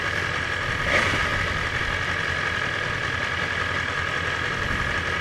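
A 2020 BMW S1000RR sport bike set up for the track runs while being ridden, giving a steady, unbroken engine drone at moderate volume.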